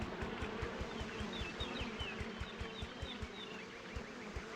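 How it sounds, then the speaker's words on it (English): Bees guarding honey in the Piglet's Big Game video game buzz continuously over a steady, rhythmic thumping background loop. The buzz sits at moderate level and carries on without pause. "So the bees are guarding the honey."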